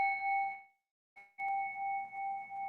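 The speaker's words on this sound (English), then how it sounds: "I like to start and stop our meditations with a singing bowl." A singing bowl struck for a meditation session, giving a clear sustained ring with steady overtones that fades, then is struck again and rings on alone.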